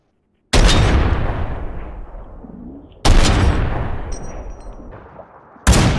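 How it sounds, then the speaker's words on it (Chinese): Three loud, booming .50 anti-materiel rifle shots in the PUBG battle royale video game, each a sharp blast with a long decaying tail, spaced a few seconds apart. "我大炮打他两枪，他没死"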